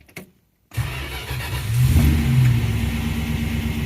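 A 1966 Dodge Coronet with a 273 V8 cold-starts after a short silence, catching and settling into a loud, steady, slightly uneven idle with a deep low rumble that swells partway through.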